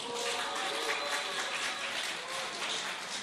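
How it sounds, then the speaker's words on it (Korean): Church congregation at a weekday worship service breaking into applause, a dense, even wash of many hands clapping at close range throughout, with faint voices mixed in. "박수 부탁드립니다"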